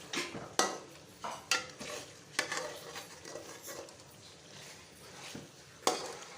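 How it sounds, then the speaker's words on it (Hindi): Cream is stirred into a chicken white karahi in a pot, with a spoon repeatedly knocking and scraping the metal at an irregular rhythm over a soft sizzle. "बस क्रीम डाल के इसको अच्छे से मिक्स करेंगे"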